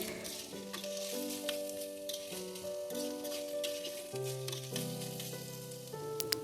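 Vegetables for a veg moong dal fry in a pan with a faint, continuous sizzle and gentle stirring, set beneath steady background music.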